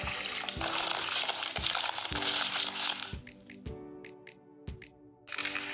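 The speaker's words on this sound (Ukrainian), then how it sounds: "я зім'яла папір." Paper is crumpled close by, with crackling rustles followed by a few sharp, separate crinkles and a brief pause.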